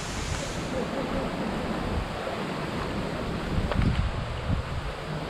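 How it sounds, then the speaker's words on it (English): Wind blows steadily beside Sheridan Creek, a broad rushing roar buffeting the microphone with a brief louder gust near the end, no talking. "Man, it's a windy day today."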